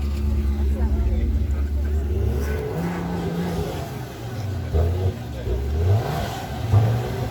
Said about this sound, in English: Can't say the Maserati sounds too great.